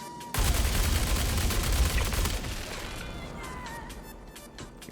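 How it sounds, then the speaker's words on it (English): Fresnel Volt LMG fires a long continuous burst in the shooter Star Citizen, a loud rapid stream of energy shots that starts abruptly and gradually fades toward the end. "And boom, that is the Fresnel Volt LMG."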